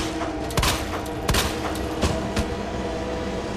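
Gunshots in Resident Evil 2, several sharp bursts fired in quick succession over a constant background din, loud and close.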